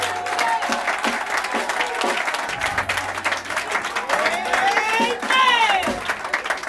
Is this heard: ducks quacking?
no